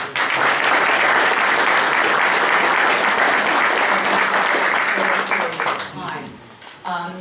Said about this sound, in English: really a big round of applause for what you've done